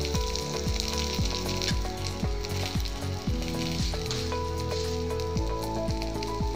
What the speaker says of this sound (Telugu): ఇప్పుడు ఈ వేగుతున్న పచ్చిమిర్చిలో 1 టీ స్పూన్ జీలకర్ర,